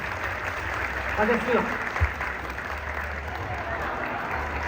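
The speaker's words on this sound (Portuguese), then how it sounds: "Uma salva de palmas" An audience claps steadily at an outdoor Christmas event in Dois Irmãos, Rio Grande do Sul, a moderate patter of hands under a voice talking.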